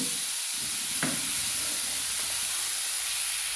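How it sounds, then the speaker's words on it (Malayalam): Jackfruit cooks in a pan as it is stirred, giving a continuous soft hiss with one brief scrape partway through. "അത് കഴിഞ്ഞിട്ട് ഇത് നല്ല ഇളക്കി, ഇത് നല്ല ഇളക്കി ഇതാക്കി എടുക്കട്ടെ."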